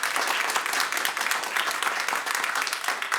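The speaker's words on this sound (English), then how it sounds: "Let's give her a round of applause." Close, steady clapping from an audience at a school board meeting, welcoming a newly introduced assistant principal, even and sustained for a few seconds with no talking.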